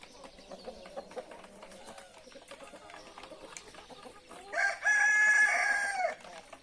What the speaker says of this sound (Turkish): Her taraf horoz oldu.